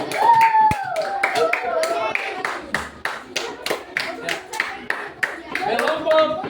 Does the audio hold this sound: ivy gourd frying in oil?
no